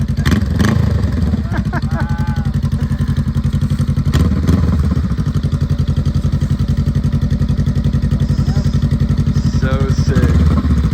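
Already-warm motorcycle engine idles loudly nearby with a steady pulsing beat, and a few short throttle blips rise over it; people talk briefly over the engine.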